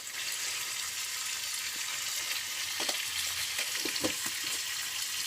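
A vegetable dish fries in a pan on a home stove, giving a steady, moderately quiet sizzle throughout. A few faint clinks and stirring scrapes come through near the end.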